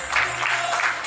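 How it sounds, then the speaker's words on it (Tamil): Applause at a 50th birthday celebration, a brief dense patter of many hands clapping together, fairly loud and steady across the short moment. "கைத்தட்டு கூடையா கொடுக்குறீங்க"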